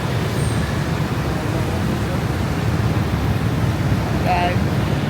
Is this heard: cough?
no